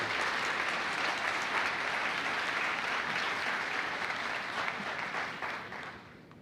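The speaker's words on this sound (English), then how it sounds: "Let's give all these academic letter winners a round of applause." High school senior honors night audience applauding academic letter winners, steady, dense clapping filling the hall and tapering off toward the end.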